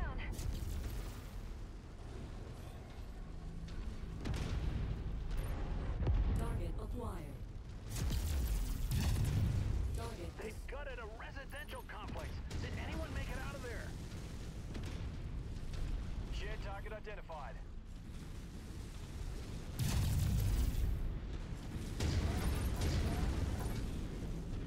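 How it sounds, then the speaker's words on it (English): Heavy weapons fire and explosions from battling mechs in the video game MechWarrior 5: Mercenaries. Loud booming bursts come in clusters amid constant rumbling combat noise, with voices talking over it. "Stop firing into the city"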